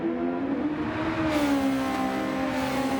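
Aston race car engine in Gran Turismo 7, a loud sustained high-revving drone whose pitch sweeps gently downward as the car holds its speed, heard alone without commentary.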